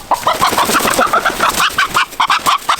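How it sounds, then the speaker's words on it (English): A chicken clucks busily and repeatedly, loud and close, with rapid choppy calls running nearly nonstop through the moment on a farm. "Is this not the goofiest chicken you've ever seen?"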